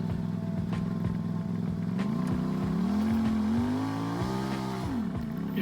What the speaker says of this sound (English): And you can hear the struggle there on the engine.